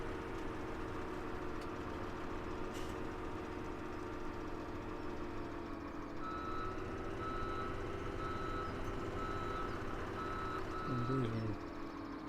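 Truck reversing beeps in Farming Simulator 17, a short run of electronic beeps near the end over a steady idling diesel engine hum.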